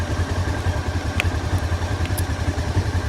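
Motorcycle engine idling steadily, a low even thrum with a slight lumpy pulse that stays near and constant throughout, with no voices over it.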